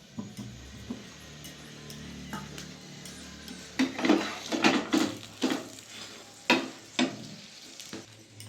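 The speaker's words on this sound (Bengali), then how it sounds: "ভালো করে উল্টে পাল্টে পরোটা মানে ভেজে দেখুন" An aloo paratha fries in white oil in a pan, a soft sizzle under sharp scraping and clacking as a spatula flips and presses it, the turning sounds growing louder in the second half.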